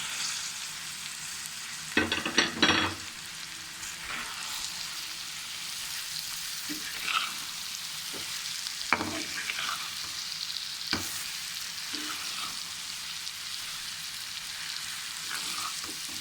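Okra frying in masala for aloo bhindi gives a steady, moderate sizzle, broken by occasional scrapes and stirring clatters of a spoon in the pan, with no talk.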